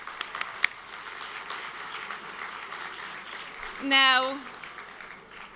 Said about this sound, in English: Let's give them a round of applause for coming here.